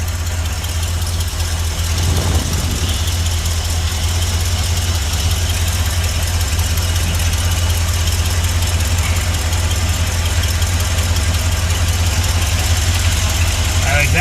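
A Ford truck engine idles steadily with a light ticking from an exhaust leak at the manifold, a constant low rumble close by with no breaks.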